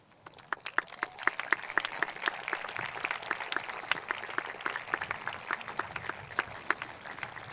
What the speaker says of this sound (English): give our teachers a heartfelt expression of thanks with a round of applause